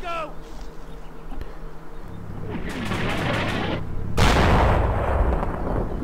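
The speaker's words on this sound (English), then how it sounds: "Got mortar fire coming down over here" Mortar rounds land in a World War II tactics game set during Operation Market Garden, with buzzing ambience giving way to rumbling impacts and a loud, sharp blast near the end that rolls into sustained noise.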